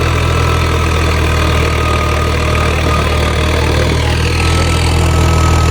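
A tractor engine revs hard and steadily, loud and close, hauling a heavily loaded trolley across dangerous soil with no voices over the continuous mechanical drone.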